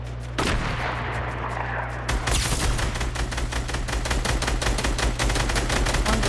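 Rapid gunfire bursts in a shooter video game, loud and close, a dense stream of cracking shots that starts after a brief pause and keeps up a fast, steady rhythm over a low rumble.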